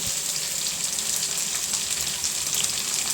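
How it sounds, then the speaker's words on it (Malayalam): Water pours steadily into a cooking pot while preparing dosa batter with a little salt, a continuous bright splashing flow with no speech. "വെള്ളം ഒഴിക്കണം കണ്ടോ,"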